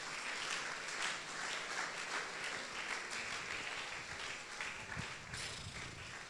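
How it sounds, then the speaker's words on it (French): A church congregation applauding during a French-language worship service, steady dense clapping from a large crowd that fills the whole clip at moderate loudness. "acclame le Seigneur"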